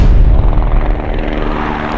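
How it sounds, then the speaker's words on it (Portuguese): A rescue helicopter hovers close by on a mountain, its rotor thudding in a heavy, rapid beat under a loud, constant engine roar. "Tá pra chegar um helicóptero aqui agora."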